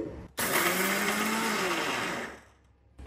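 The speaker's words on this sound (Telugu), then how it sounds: "సో దీన్ని మనం రుబ్బబోతూ ఉన్నాము." A mixer grinder grinds dosa batter for varati dosa with curry leaves, starting abruptly and whirring loudly and steadily for about two seconds before winding down; no one speaks.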